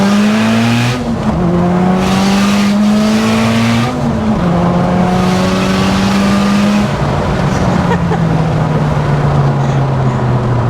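A 600bhp big-turbo Audi S3 8P under hard acceleration, its loud engine note climbing steadily through the revs with brief dips at each gear change, heard close from inside the car.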